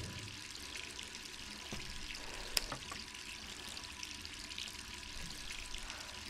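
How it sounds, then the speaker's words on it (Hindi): Water running from a tap in a horror video game, a steady hissing stream that stays constant and fairly faint throughout with a couple of small clicks. "फिर पानी खुला है तुम्हारा?"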